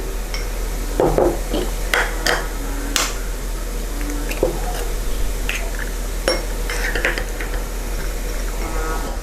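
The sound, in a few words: whisking eggs gently with a whisk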